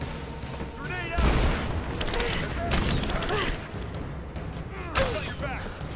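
In Rise of the Tomb Raider, a sustained volley of gunfire and a grenade blast rumble together in a dense, loud battle mix, with a sharp booming hit near the end and voices shouting over the din.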